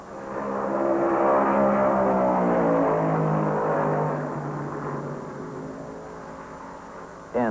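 NASCAR stock car engines shriek at Darlington Raceway during the 1970 Southern 500, a loud sustained wail with the pitch climbing and then falling as the cars pass.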